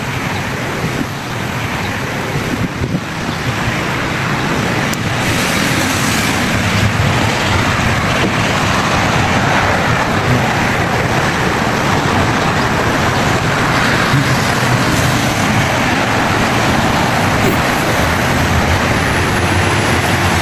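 Highway traffic in Bahrain, heard from beside the road near a footbridge as a loud, continuous roar of passing vehicles that stays steady throughout with no pauses and no voices.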